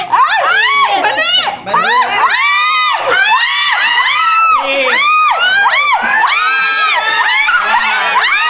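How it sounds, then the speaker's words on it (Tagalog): A family crowd shouting and cheering during a game at a family gathering: loud, overlapping excited yells and whoops from children and adults, with laughter mixed in, bursting repeatedly throughout. "Sarap na sigawan!"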